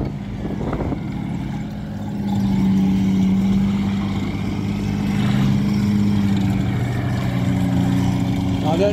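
Sherman tank with a Chrysler multi-bank engine and an M18 Hellcat running together at a tank show at Bovington, a steady low engine drone with a throaty hum that swells midway, loud and continuous, under faint crowd background.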